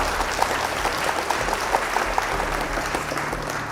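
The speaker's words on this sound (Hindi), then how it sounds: "हम चाहेंगे जोरदार तालियां हो जाए हमारी तीनों टीम के लिए" Steady applause from a crowd at a Hindi student quiz competition, filling the room for three competing teams, dense and continuous with sharp claps standing out over a low background rumble.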